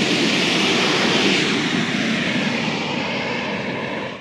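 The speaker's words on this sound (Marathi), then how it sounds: "तेवढा पाण्याचा फ्लो, आवाज किती डेंजर आहे एकदम." Water rushing powerfully through a canal dam where the flow divides into several channels, a loud, continuous broadband roar heard up close and alone, steady throughout and easing only slightly at the very end.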